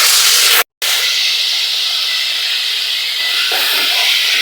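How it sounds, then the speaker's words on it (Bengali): Garlic and onion paste hitting hot oil for a Bengali fish curry with potato and eggplant gives a loud, steady sizzling hiss, broken by a brief silent gap near the start and then continuing without pause. "তেল গরম হয়ে গেছে এবার রসুন আর পেঁয়াজ বাটা দিয়ে দেব"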